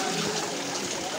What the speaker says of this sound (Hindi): प्योर पानी आ रहा है, प्योर।